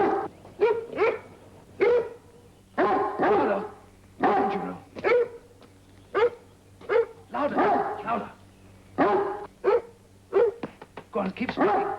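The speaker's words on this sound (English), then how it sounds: "The dog's making too much noise." Dog barking repeatedly in a period drama, a series of close, loud barks and yips in uneven bursts with short pauses between them.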